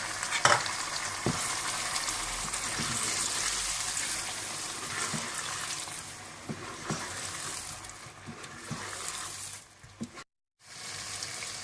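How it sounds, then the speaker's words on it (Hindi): Onion, ground yogurt and milk-soaked ground almonds frying for chicken korma, a dense steady sizzle with stirring scrapes, briefly cut to silence near the end. "ग्राइंड किए हुए दही के साथ प्याज वो डाल दें और साथ ही आप दूध के साथ पिसे हुए बादाम भी डाल दें और इसे आप अच्छी तरह से भून लें।"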